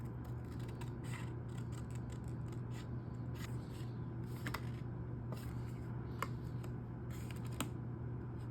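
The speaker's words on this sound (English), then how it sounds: "you're gonna cut this line here using an X-Acto blade" An X-Acto blade slicing along lines of a paper bat pattern, faint scratchy cutting strokes in short irregular bursts, close and quiet over a steady low hum.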